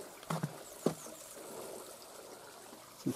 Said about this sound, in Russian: Течет ручей.